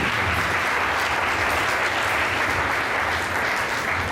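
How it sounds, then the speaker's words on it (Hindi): An audience claps all together, a dense and steady wash of applause that carries on at full strength from start to finish. "तालियां बजाओ।"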